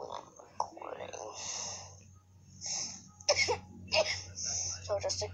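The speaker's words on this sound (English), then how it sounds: "I just have a tic, so it makes me cough a lot" A person coughs and clears their throat several times in short bursts from a tic, close to the microphone, mixed in with quiet talking.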